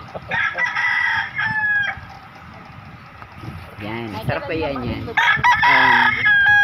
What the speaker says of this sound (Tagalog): Mga nakataling manok.